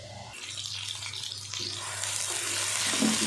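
Onions sizzle in about half a cup of hot oil in a kadhai, a close, hissing crackle that builds steadily louder with no talking.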